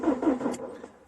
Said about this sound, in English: which would register as being a reasonable speed for an engine to be cranking over at